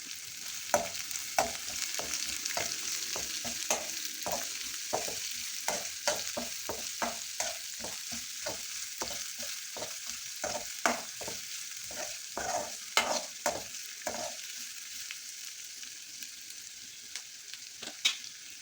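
Onion and green chilli stirred and sautéing in a pan for kadala curry, with a steady bright sizzle under a dense run of rhythmic scraping strokes from a spoon, close up and continuous, without any talking.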